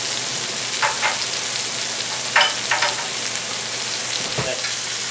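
Steaks frying in butter with crushed garlic give off a steady close sizzle, broken by a few brief scraping or spattering accents, with no talking.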